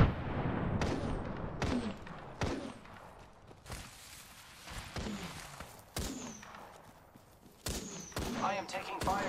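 Gunfire in the Apex Legends video game: repeated sharp bursts and single shots with booming impacts, a busy battle soundscape over about nine seconds.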